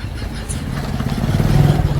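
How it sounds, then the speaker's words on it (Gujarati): A motorbike engine hums low and close, growing slightly louder as it passes by during a short stretch with no clear talk. "ખરા જો બાઈક આવે."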